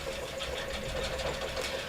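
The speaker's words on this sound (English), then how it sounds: "then I can come through and do my stitching." A sewing machine runs steadily, stitching two pieces of fabric together in a quilting stitch-along, with a continuous close mechanical hum and rapid needle chatter and no talk.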